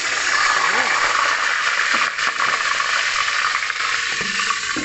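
Large dried fish (daing) frying in hot oil, a steady loud close hiss and crackle throughout, with someone speaking over it.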